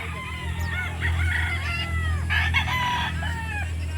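Rooster crowing at a Sunday chicken market in Calauan, Laguna, with several overlapping crows and clucks from nearby birds over a constant low rumble of crowd and market noise.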